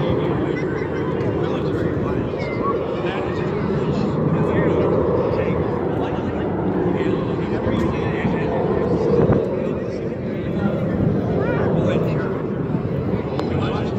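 Jet engines of military jets flying in a heritage formation at the Dayton Air Show rumble and roar steadily overhead, a broad continuous thunder filling the air with crowd noise beneath.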